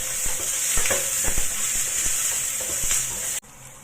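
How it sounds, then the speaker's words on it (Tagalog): Onion and garlic frying in a pan for chicken curry with coconut cream, a loud bright continuous sizzle with regular spatula taps and scrapes, cutting off abruptly near the end. "Ngayon, i-fry na natin ang onion. Ayan, yung onion ball. At ilagay na rin natin ang garlic."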